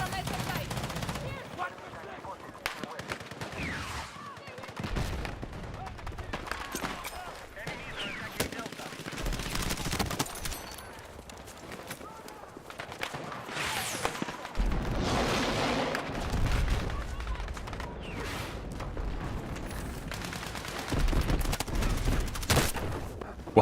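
A PvE turret in Battlefield 6 fires in dense, sustained bursts of heavy gunfire, loud and close, with booming impacts and a voice talking intermittently over the barrage.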